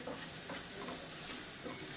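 Banana stem chutney ingredients sauté with salt in a pan, giving a steady, close sizzle and hiss with faint stirring scrapes throughout and no talking.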